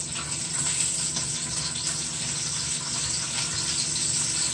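Sausages cooking in a pan for spaghetti and sausage, a steady, fairly loud hissing sizzle with faint crackles, continuous and close with no talk over it.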